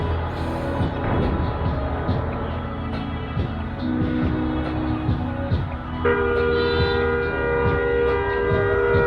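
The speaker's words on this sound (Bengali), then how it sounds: "ও পুরো রিয়েলিস্টিক অ্যাম্বুলেন্সের সাউন্ডটা।" An ambulance-style siren horn fitted on a serviced bus wails continuously over engine rumble and traffic, steady and loud, with a sharper, brighter siren tone joining in partway through.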